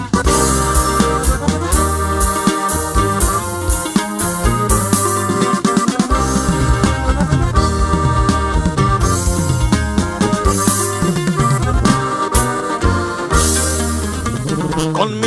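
A band playing live, a full band sound with steady driving bass, drums and dense melodic instruments, loud and continuous throughout with no talking over it.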